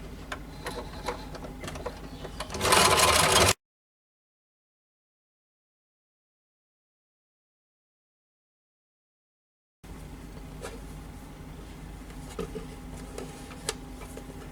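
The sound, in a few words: sewing machine stitching a blouse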